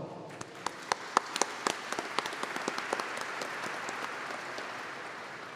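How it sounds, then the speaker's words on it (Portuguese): Audience applause at a formal swearing-in ceremony, starting with sharp distinct claps that quickly thicken into a dense, steady patter of many hands, moderately loud in a hall. "a quem eu peço uma salva de palmas"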